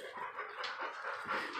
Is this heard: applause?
no